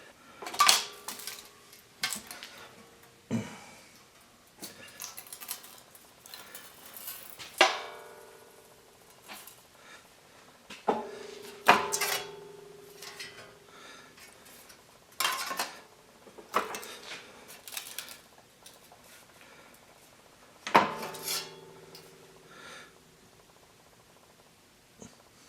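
Sheet metal is worked on a brake in a workshop, with a sequence of sharp metallic clanks and ringing knocks spread out over the span, some resonating briefly, with quiet gaps between.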